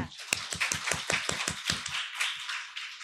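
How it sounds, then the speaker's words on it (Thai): A lecture audience claps for the speaker at a Thai talk, a burst of quick, close hand claps that thins out toward the end. "ขอให้พวกเราปรบมือให้อาจารย์ประพจน์หน่อยค่ะ"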